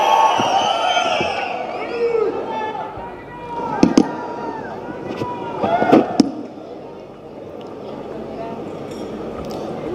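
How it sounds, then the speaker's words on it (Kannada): A large rally crowd at a government guarantees convention in Chikkamagaluru bursts into loud, sustained applause and cheering to welcome Kadur MLA K S Anand, with a few sharper peaks of noise midway. "ಒಂದು ಜೋರಾದ ಚಪ್ಪಾಳೆ ಬರಲಿ"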